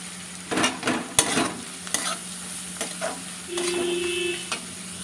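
Chopped carrots hit a pan with soy sauce for egg chow mein, giving a close sizzle broken by repeated utensil scrapes and clinks and a brief rattle near the end, with no voices.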